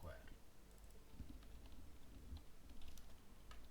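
Soft keystrokes tapping on a computer keyboard while entering PHP code, a quiet irregular run of clicks with a voice talking over them.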